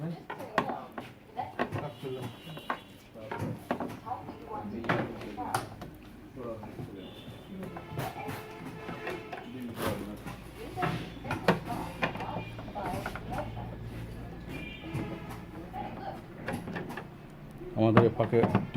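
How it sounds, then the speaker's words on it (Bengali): Back panel of a Singar 49 inch LED TV being opened by hand, with scattered plastic clicks, creaks and knocks close by while people talk over the work. "মিজান ভাই এখন টিভিটা খুলবে।"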